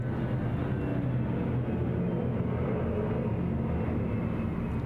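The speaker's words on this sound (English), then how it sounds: "there is an airplane flying over my house." A fixed-wing airplane passing over a house, a steady broad low roar that stays constant and moderately loud throughout, with no talking over it.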